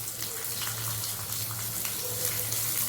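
Small onions (shallots) hit a hot pan of spluttering mustard seeds and cumin, making a loud, dense, continuous sizzle that holds steady throughout with a low hum beneath.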